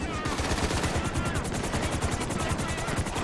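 Rapid, continuous gunfire rattles throughout a gang attack in GTA V Online, loud, dense bursts layered with no pause.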